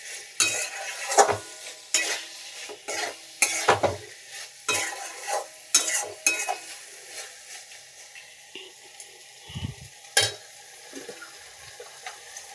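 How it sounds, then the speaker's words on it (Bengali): Boiled potatoes and fried shrimp being stirred in a pan for a shrimp, potato and eggplant curry: repeated spoon scrapes and clatters in an irregular rhythm over a soft sizzle, close up, without speech. "সেদ্ধ করা আলু, দিয়ে নাড়াচাড়া করতে হবে।"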